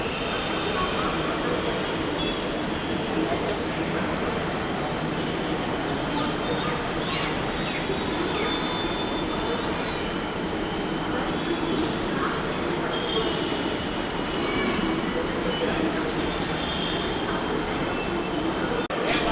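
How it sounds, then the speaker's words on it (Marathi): A Hyderabad Metro train running, heard from inside as a steady loud rumble of wheels on rail that continues throughout, with faint squeals and brief voices in the background. "आपण मेट्रोचा प्रवास पूर्ण केला"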